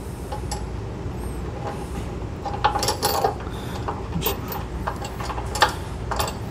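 Metal nut being threaded and run onto a bolt on a Reese Dual Cam II weight distribution hitch, giving scattered light clicks and scrapes over a steady background hum, close by with no talking.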